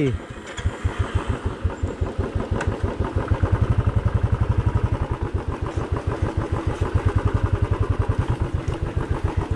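Off-road motorcycle in a forest near Chikkamagaluru starting up, its engine catching and settling into a loud, rapid, close-up putter that is revved and held at a steady beat, with people talking nearby.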